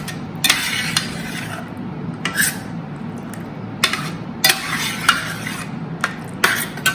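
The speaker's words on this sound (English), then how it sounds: "You take your pasta which you have boiled and throw it in, as much as you need. Go on mixing" Boiled pasta being mixed into a red and white sauce in a pan, with a run of scraping, clattering strokes as a utensil works against the metal, loud, close and irregular over a steady low background hum.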